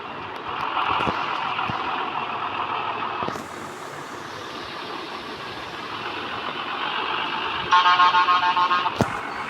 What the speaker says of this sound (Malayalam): നമ്മളെ വണ്ടിയുടെ സൗണ്ട് ഇതാട്ടോ.